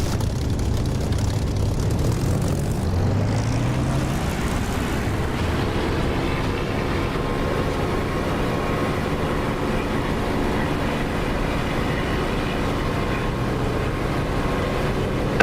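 A flight-sim aircraft engine in the DCS video game throttles up for takeoff, a steady loud broadband roar with a rising tone early on, holding continuously with no talk.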